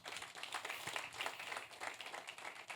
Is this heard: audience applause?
yes